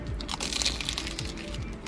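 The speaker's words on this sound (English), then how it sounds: "Forgot we had another spring roll in here, so I'm gonna crack into that. It looks mighty crunchy." A crunchy spring roll, eaten alongside sushi, gets bitten and chewed up close, giving repeated dry crackling crunches that run steadily through the whole moment.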